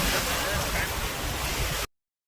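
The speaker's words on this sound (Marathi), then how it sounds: "इथं पाठीमागे एक समुद्र आहे" Sea waves wash onto the shore at Dhanushkodi in a steady broad roar mixed with wind buffeting, which then cuts off abruptly to silence.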